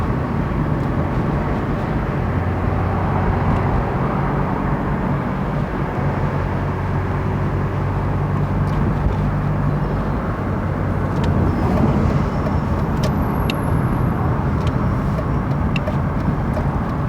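A DIY electric car drives along a road, producing a continuous broad rumble of tyre and road noise with wind, steady and fairly loud throughout.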